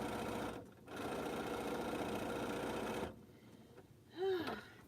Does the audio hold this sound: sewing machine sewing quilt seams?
yes